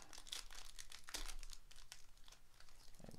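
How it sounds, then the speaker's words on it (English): Plastic wrapper of a Panini NBA Court Kings trading card pack being cut and crinkled open, close crackling with a sharp snip near the middle, quiet and no voices. "Cut it a little bit here."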